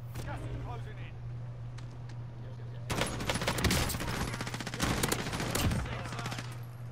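Call of Duty: Warzone gunfire coming from above on a rooftop, starting after a quiet opening and continuing as loud repeated automatic bursts with brief gaps, over a low steady game hum.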